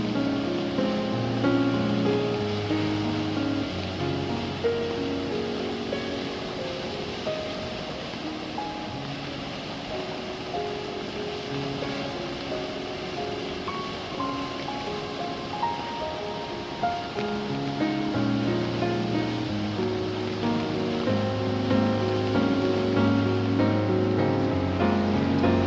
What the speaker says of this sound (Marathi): एकदमच आज सकाळी एवढा मोठा पूर आलेला आपल्याला पाहायला भेटलाय मित्रांनो.